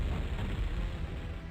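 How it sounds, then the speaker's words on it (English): In Warcraft 2, a building is blown up by cannonballs, giving a dense, loud rumbling explosion that fills the short moment without a clear separate attack. "the explosions when the building gets blown up"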